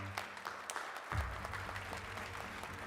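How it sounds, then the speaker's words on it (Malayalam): Brief, faint applause from a gathered crowd at a political meeting in a film scene, a soft patter of many hands clapping for a few seconds. "എല്ലാരും ക്ലാപ്പ് ചെയ്യും."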